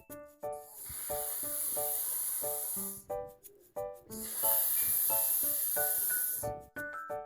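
A voice imitates a snake's hiss, two long sustained sibilant hisses over light plucked music, close and fairly loud.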